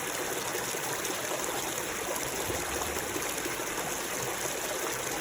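Stream water flows and trickles steadily during tributary water sampling as a sample bottle is filled below the surface, a close, continuous rushing wash with no break.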